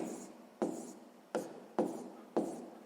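Pen strokes on paper as a fraction is written out by hand for a sixth-grade maths exercise, four or five short scratchy strokes in an uneven rhythm, close and quiet, with no talking.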